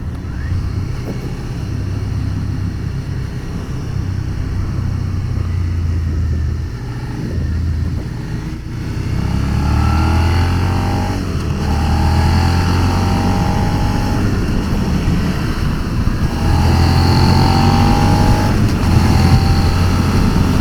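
Suzuki SV 650 motorcycle riding on the road, with a steady engine drone and heavy wind rush over the whole ride, the revs rising and settling through gear changes.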